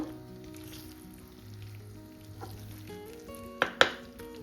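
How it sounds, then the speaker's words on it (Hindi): Momos tossed in sauce in a hot pan give a steady low sizzle under soft stirring, then two sharp clinks of a utensil against the pan near the end, close and moderately quiet. "टॉस कर लेंगे। हल्के हल्के हाथों से हिलाएंगे मोमोज को"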